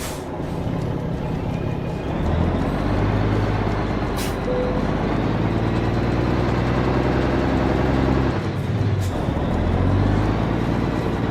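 A Mack truck with an ENDT Fury 6 engine idling in American Truck Simulator, a loud, steady low diesel rumble that shifts slightly in pitch, with a couple of brief clicks and no talking.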